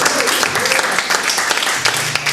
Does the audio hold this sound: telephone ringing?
no